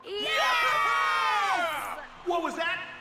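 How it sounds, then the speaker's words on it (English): Crowd in the video game Cookie Run: Kingdom erupts in loud whooping cheers and shouts, a sustained burst that fades then swells again briefly. "We're gonna need a louder round of applause."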